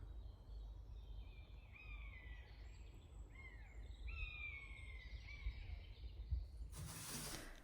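Faint birdsong in the distance, a few chirping and warbling calls over quiet outdoor ambience, ending with a short burst of noise.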